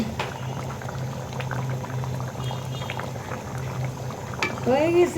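Hilsa fish curry gravy bubbling in a pot, a steady close simmer of popping bubbles with a faint low hum beneath and a brief clatter near the end.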